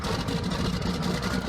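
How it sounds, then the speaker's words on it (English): A heavy bulldozer engine rumbles and revs close by, a continuous dense mechanical roar with no pauses. "revving up a bulldozer?"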